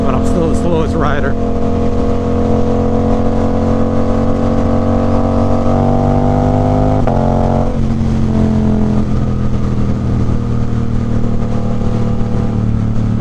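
A 2024 Suzuki GSX-8R with a Toce aftermarket exhaust runs loud and close, a throaty steady engine note that shifts pitch partway through as it settles into a lower drone.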